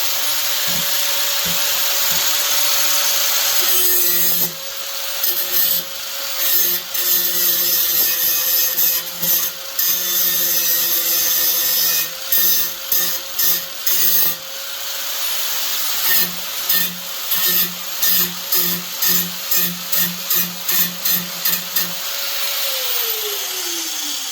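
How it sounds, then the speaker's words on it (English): A thin DeWalt cutoff blade cuts shower door metal in a high, close, screeching whine with a steady tone, broken by a series of short cuts and bursts of grinding before winding down. "Now these are them nice thin DeWalt cutoff blades. They work good."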